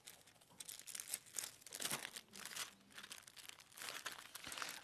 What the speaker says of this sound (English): I'm just using then some little scissors to be a bit more accurate with cutting out and just cutting around the line that I've drawn.